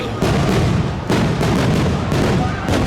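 Nighttime fireworks at Disneyland thump and crackle in a run of about five loud bursts, each followed by a fizzing tail, with the crowd ambience in between.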